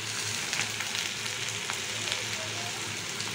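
Vegetables fry in a pan with a steady, close sizzle and crackle that fills the whole moment without a break.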